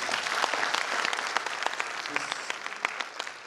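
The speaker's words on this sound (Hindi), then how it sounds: "और इसके लिए एक बार जोरदार तालियां।" Loud, dense applause from a film festival audience, steady and continuous throughout with a few sharper individual claps standing out.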